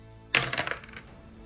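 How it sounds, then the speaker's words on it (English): Two small plastic dice thrown during a Space Crusade board game, a single sharp clatter followed by a quick run of rattling bounces that fade within about half a second, close and alone. "we're going to throw 2 white dice"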